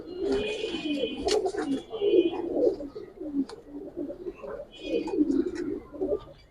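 Giribaz pigeons coo in low repeated rolling calls close by, mixed with a few chirps and some background noise.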